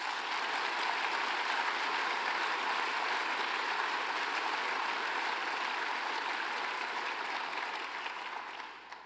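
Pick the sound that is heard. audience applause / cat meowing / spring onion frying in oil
audience applause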